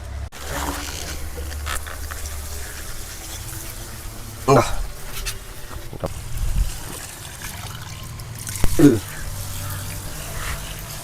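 Water runs steadily during the backwash of a filter vessel, flushing out muddy water in a continuous trickling flow, with a couple of brief splashy bursts.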